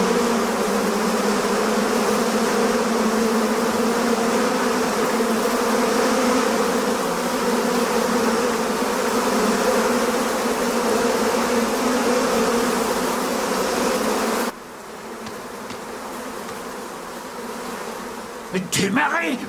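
A swarm of flies on a cursed island in a French horror film, a loud dense continuous buzzing drone that holds steady, then drops away abruptly and briefly returns near the end.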